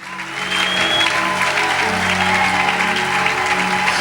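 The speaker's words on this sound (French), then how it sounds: "Acclame très fort le Seigneur." A church congregation claps and cheers loudly for the Lord, and dense applause swells within half a second and holds steady, with voices and a sustained musical tone underneath.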